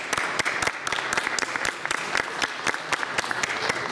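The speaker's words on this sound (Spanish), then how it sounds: "El aplauso para él, por favor." Applause from a conference audience welcoming a speaker on ICT policy in Uruguay, with dense, sharp individual claps in a steady patter throughout, fairly close.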